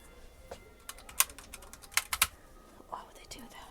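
A display computer keyboard in an IKEA kids' section is tapped in a few quiet, scattered clicks and short bursts of keystrokes, with faint whispering in the background.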